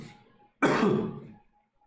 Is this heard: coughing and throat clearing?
yes